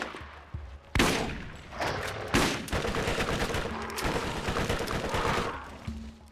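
SMG bursts from the video game Borderlands: rapid volleys of gunfire with sharp individual cracks, loud and close, repeating in several bursts across the clip.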